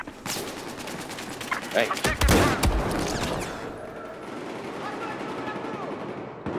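Gunfire in the video game Battlefield 4 rattles out in dense rapid bursts and single cracks, loud and close, with a brief spoken exclamation over the shooting.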